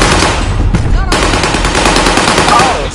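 Video game gunfire: loud, rapid automatic bursts fill the whole stretch, close and continuous, with a voice faintly underneath.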